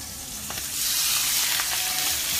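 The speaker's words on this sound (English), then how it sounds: "I'm going to throw my steaks on because my butter is hot." T-bone steaks hit hot butter in a skillet, giving a loud, steady sizzle that swells and holds with no talking.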